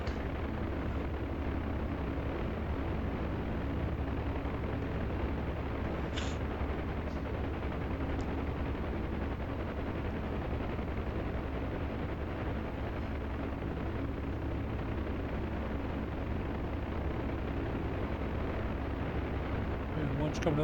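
A UH-1 Huey helicopter flying in DCS, its rotor and turbine making a steady, unbroken drone for the whole stretch, with a voice talking faintly over it.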